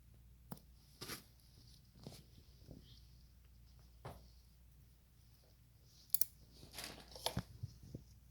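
Scissors snip suture thread in a few quiet, separate cuts, with light handling noise in a hushed lab setting.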